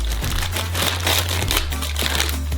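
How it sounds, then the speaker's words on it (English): A bag of sugar is opened and crinkled by hand for a giant homemade Twix, giving steady, close plastic crumpling and rustling for a couple of seconds with no talk. "Open up some sugar."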